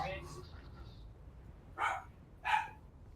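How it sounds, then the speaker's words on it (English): A dog barks over a voice chat microphone during an online Dune game session, two short, compressed barks sounding faint and tinny after a brief stretch of other noise. "I forgot the dog's name is Rufus. He doesn't mute his mic either"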